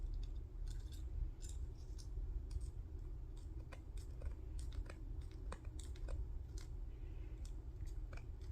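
Scissors cut through thick plastic pieces with faint, scattered snips and clicks, close by and quiet, spread over a low steady background hum.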